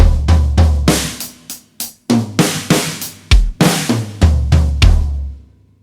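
A drum kit plays a slow, heavy halftime linear groove of separate hits, kick, snare and toms spread out with space between strikes, loud and close, ending in a ringing floor tom decay.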